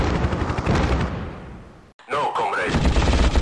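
Helicopter gun fire in the 1996 combat flight game Hind, a dense rattling barrage that cuts out briefly and resumes with loud game noise while a voice speaks over it.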